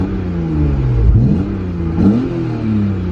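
A BMW E36 M3 coupe's inline six with a 5-speed manual accelerates through gears, two rising revving pulls close by, each dipping at a shift before climbing again.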